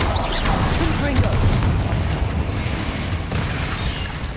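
Fiery spell explosions and booming blasts in the Hogwarts Legacy video game, a dense continuous rumble of bursts and crackles with a voice speaking over them.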